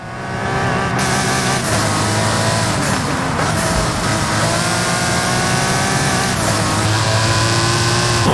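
Sports car engine in Forza Horizon 5 holds a loud, steady roar throughout, rising and shifting pitch as it revs, close and continuous with no talk over it.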